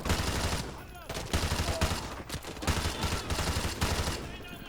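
Automatic gunfire from an RPD machine gun in Call of Duty: Modern Warfare 2 (2009) Remastered, loud repeated bursts with rapid rounds and short gaps between them.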